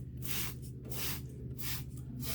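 A handheld spray bottle mists water onto damp clay planted with seeds. Four quick, rhythmic hissing squirts sound close and clear.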